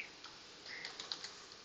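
Quiet keyboard typing with soft, irregular key clicks, close to the microphone, and no voices.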